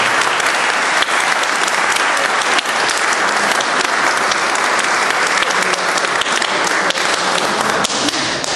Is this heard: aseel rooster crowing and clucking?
no